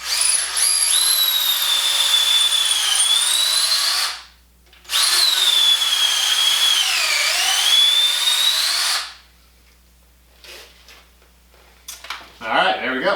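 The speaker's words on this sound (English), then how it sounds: "so let's drill this pilot hole" A power drill bores a pilot hole in wood in two long, loud, steady whining runs with a brief pause between, followed by near silence and faint handling noise at the end.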